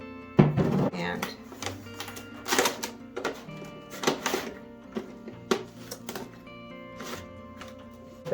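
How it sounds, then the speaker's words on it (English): Duct tape pulled from the roll and wrapped around a container for winter sowing, heard as several short, rasping rips and crackles close by, with a person talking throughout. "You want to make sure you get your duct tape long enough to go around."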